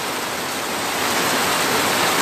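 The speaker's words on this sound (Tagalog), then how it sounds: "yung ambon, yung ulan, tumutulo sa yero." Rain leaking through and dripping onto a corrugated tin roof at a rabbitry during the rainy season, a steady dense hiss of water patter with no pauses, fairly loud and even throughout.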